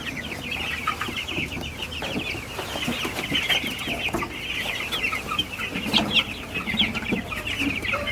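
Chickens clucking and chattering steadily, several birds close by, with faint tapping as they peck at a drinker that releases water.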